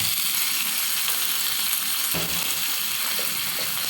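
Dried fish hit hot oil with lightly fried onions and chilies, a steady close sizzle and crackle with a brief stirring scrape midway and no talk.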